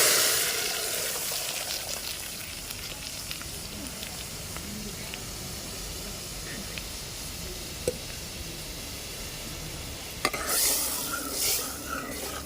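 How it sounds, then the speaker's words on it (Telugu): Sizzling tempering is poured into cooked red gram dal, producing a long, steady crackling hiss with small pops. A louder burst of bubbling sizzle comes near the end. "అది నేను పోపు వేగింది కాబట్టి నేను పోసేసుకుంటున్నా."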